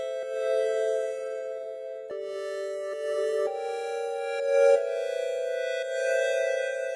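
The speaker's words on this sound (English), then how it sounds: "it's simply a modulated wavetable going into some reverb." A sustained modulated wavetable synth tone with shifting, stepped harmonic layers, washed in reverb and changing pitch a few times; no voices.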